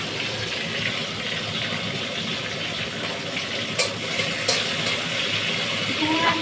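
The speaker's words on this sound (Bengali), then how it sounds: "দেখো কড়ার মধ্যে আমি চিংড়ি মাছগুলো দিয়ে দিচ্ছি। এখানে একটু ভেজে নেবো" Shrimp sizzle in a wok with a steady hissing fry and occasional sharp spatters, close and continuous, with a voice speaking quietly in the background.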